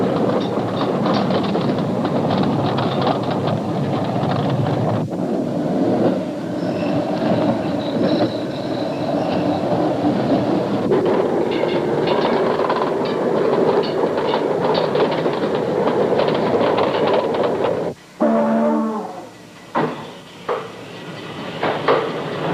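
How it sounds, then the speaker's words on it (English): A North Shore Line interurban electric train running on track in Milwaukee, a steady loud rumble and rolling wheel noise, then sharp wheel squeal and clatter near the end. "The North Shore's local service in Milwaukee is quite a contrast to the heavy interurban trains."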